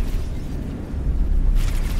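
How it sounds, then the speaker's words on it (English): Deep rumbling explosion from the space game X4 Timelines near a research facility, a heavy low boom that rolls on and swells again toward the end, loud and alone without talk. "An explosion, I assume from the research facility itself, has just knocked out all of my shields"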